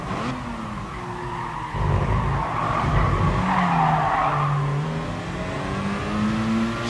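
A race car in GT Sport skids through a corner while oversteering, its tires squealing over a droning, revving engine whose pitch swoops up and down, loud and continuous with no talk.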